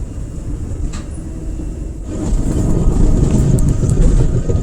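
The Latur Mumbai Superfast Express rumbles along the rails from inside a coach, a steady low roar that swells louder partway through and keeps a continuous heavy drone to the end.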